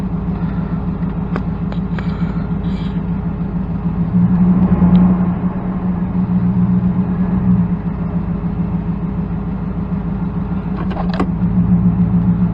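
A 2000 Dodge Durango engine idling with a steady, rapid ticking running evenly under a low engine drone, close and moderately loud, with a brief rise in level partway through and no talk.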